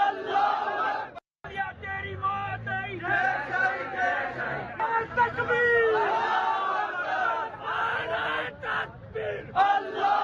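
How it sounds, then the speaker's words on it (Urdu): Enthusiastic townspeople in Bahawalpur chant Pakistan Zindabad slogans together, a rhythmic mass of shouted voices rising and falling in bursts with crowd chatter between, moderately loud and somewhat distant. "پرجوش شہریوں نے پاکستان زندہ باد کے نعرے بھی لگائے"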